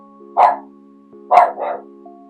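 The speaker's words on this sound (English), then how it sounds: "the dogs are a bit quieter now" Two separate dog barks, close and loud, the second followed at once by a softer bark, with short quiet gaps over a low background hum and no talking.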